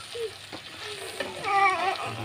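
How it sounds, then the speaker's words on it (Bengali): Spices being stirred and mixed into roti upma in a frying pan: a steady close sizzle with soft scraping strokes of the spoon, quiet and continuous with no talking. "আমি নেড়ে ভালো করে মিক্স করে নেব, ভালো করে মিক্স করে নেব মশলাগুলো"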